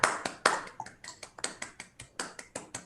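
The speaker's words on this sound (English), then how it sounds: "Let's give a round of applause." A small group at a reading-group presentation gives a sparse round of applause, individual claps landing in an uneven series, fairly quiet with no talking.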